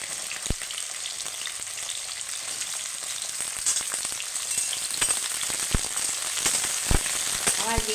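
Eggplant pieces fry in a pan for a Bengali mixed-vegetable posto, a steady broadband sizzle with a few sharp pops and crackles throughout, close and continuous with no voices.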